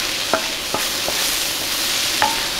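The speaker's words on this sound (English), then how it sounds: "and it's sizzling more" Vegetables for paella sizzle in a pan with a steady, close frying hiss, broken by a few soft clicks from stirring, with no voices.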